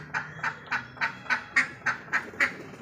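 Several ducks kept inside a city home quack in a regular series of about nine evenly spaced, fairly loud calls close by in a room, with no talking.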